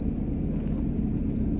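Repeated electronic beeping from a faulty Bobcat loader's damaged wiring, three steady high tones each lasting about a third of a second with short gaps, over a low continuous rumble.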